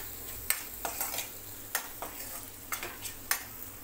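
A spoon stirs egg masala frying in a pan after salt goes in, giving repeated scraping strokes about every half second over a soft steady sizzle, close and fairly quiet, with no talking.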